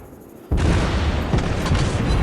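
Heavy naval gun shells strike an enemy battleship in a naval warfare video game, a sudden loud boom at the half-second mark followed by a sustained roar of impacts and rumbling explosions.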